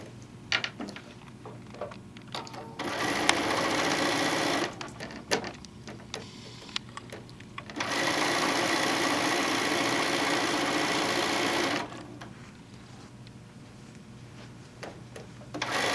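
A domestic sewing machine joins the rows of a fat quarter quilt top, running in two long steady bursts of mechanical whirring with quiet pauses and small clicks between them.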